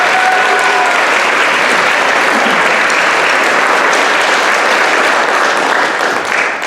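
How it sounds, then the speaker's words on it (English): Loud, sustained applause from a crowd at a school band concert, dense clapping filling the whole stretch at an even level. "Yes, you can clap for Elliot Lowe's,"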